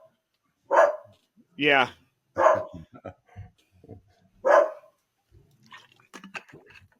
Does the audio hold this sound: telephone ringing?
no